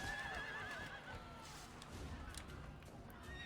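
A horse in the game Assassin's Creed Brotherhood gives a clear, wavering whinny at the start, followed by softer hoof clip-clops and game ambience, fairly quiet overall.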